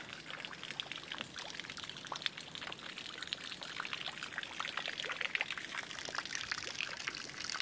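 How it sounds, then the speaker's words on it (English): Water from a ram pump's delivery pipe spills steadily back into a small pond, a continuous close splashing trickle with no pauses. "We have one here, which is dumping back into the pond."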